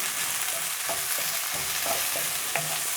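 Ginger, garlic, chili and onions frying in oil for crispy chilli chicken, a loud continuous sizzle broken by several short spatula taps and scrapes against the pan, no talking.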